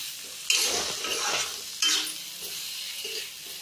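Bitter gourd roasts in a pan for dry karela sabzi, stirred in two bursts of scraping sizzle that fade to a quieter frying hiss between them.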